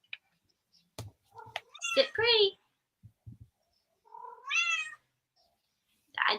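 A pet cat meows a few times in a quiet room, short high tonal calls around two seconds and again near four and a half seconds, with soft clicks and light movement between them and no clear talk over the calls.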